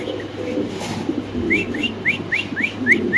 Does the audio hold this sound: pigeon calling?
yes